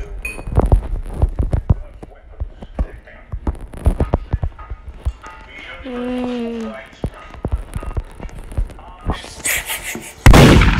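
Sharp gunshots from a murder mystery video game crack repeatedly in an uneven, rapid series, loud and close, with a brief voiced sound in the middle and a harsh noisy burst at the end.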